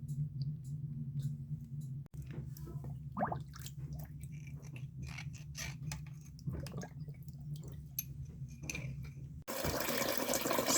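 Water draining from a gas boiler after repeated flushing, a steady low trickling and gurgling flow with faint drips, continuous and close, with a brief rushing burst at the very end.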